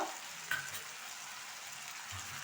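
Chicken stew ingredients fry in a pan with salt added, giving a steady, soft, hissing sizzle throughout and one brief clink near the start.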